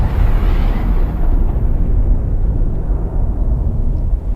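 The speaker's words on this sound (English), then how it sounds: "Massive explosion." A massive explosion from the Oppenheimer movie trailer, a loud, sustained roaring rumble that stays dense and powerful for several seconds without easing off.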